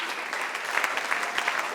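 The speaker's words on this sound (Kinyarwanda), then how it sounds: "Abatananiwe bakomera Imana amashyi." A church congregation at a worship service breaks into quick, bright clapping, a moderately loud and slightly distant patter of many hands.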